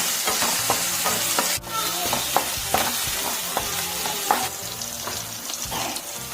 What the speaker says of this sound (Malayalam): ഓയിൽ ചൂടായിട്ടുണ്ട്. നമുക്ക് ഇഞ്ചിയും വെളുത്തുള്ളിയും ചതച്ച് വെച്ചത് ചേർത്തെടുക്കാം